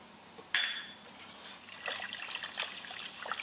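Heavy cream poured into a pan of meatball stroganoff sauce: a sharp clink at the start, then a soft, close trickling and splashing of liquid that grows busier toward the end.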